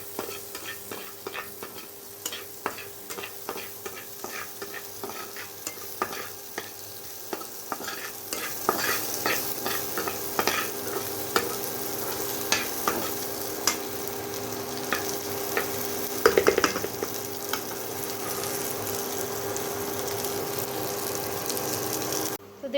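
Chopped onions stirred while frying in hot oil in a pan, making a steady close sizzle with repeated scraping and clatter of the spoon throughout. The frying grows louder partway through.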